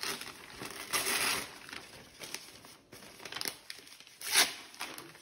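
A sheet of paper handled close up during a jar-and-plate demo: soft crinkling and rustling in irregular bursts, with a couple of sharper crackles, fairly quiet and with no talking.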